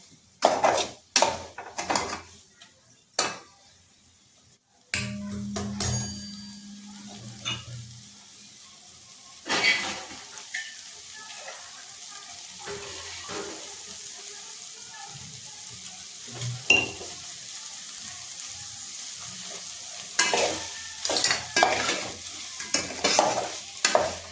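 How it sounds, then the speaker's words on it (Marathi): Soybeans frying in oil in a pan, with a steady sizzle under repeated scraping stirs and clinks of a utensil, close up and continuing at length without speech. "तेलाचे सोयाबीन चांगले मस्तपैकी तळून निघतात."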